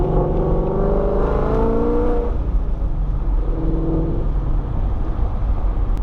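A Ford Mustang's aftermarket exhaust revs loud and close, its engine note climbing and falling through a steady throaty drone with no voices over it.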